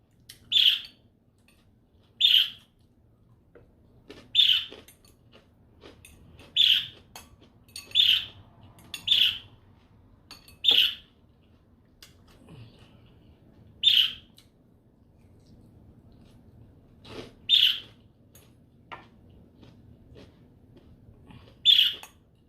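A single bird gives sharp, high chirps, about a dozen evenly spaced notes a second or two apart, clear and fairly close over a quiet low background hum.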